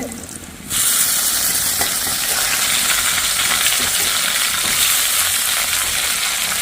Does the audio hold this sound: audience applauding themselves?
no